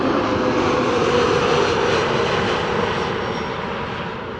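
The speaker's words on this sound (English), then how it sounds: "This is TAP Air Portugal, flight" A TAP Air Portugal airliner, flight 668, arriving at Amsterdam Schiphol, gives a loud, steady broadband engine roar that fills the whole span and fades slightly toward the end.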